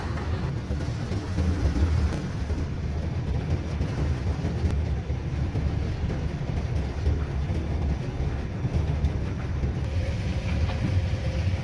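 A train rolls along the railway tracks with a steady, dense rumble and a broadband roar that holds at a constant level for the whole stretch. No voices are heard.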